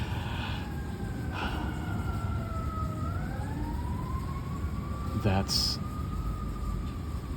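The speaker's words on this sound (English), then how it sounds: "as the sirens ring out here where I'm at" Emergency vehicle sirens wailing outside, gliding tones rising and falling at a distance under a steady background hum, with a person speaking briefly over them.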